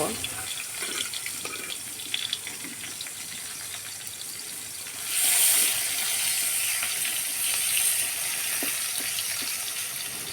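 Sliced onions dropped into hot mustard oil with bay leaves, a broad steady hiss that surges louder midway and keeps crackling with small pops.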